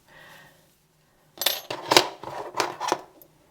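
Scissors snip through the yarn ends of crocheted spirals, a few quick crisp cuts in close succession after a brief faint rustle, close and clear.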